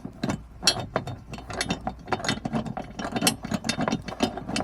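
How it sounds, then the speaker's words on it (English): A bolt spun by hand into the D-ring mounting point of an INEOS Grenadier during a mid deck shelf install, giving a rapid series of close, dry ratcheting clicks that run steadily throughout. "get the bolt started, and then you can spin it into place"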